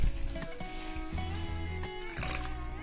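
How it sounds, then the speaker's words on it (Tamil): Water runs steadily into a bowl of rava semolina, a continuous trickling pour with a hollow filling tone, close by and fairly loud, with no talking. "முழுகிற அளவுக்கு தண்ணி ஊத்திக்கோங்க"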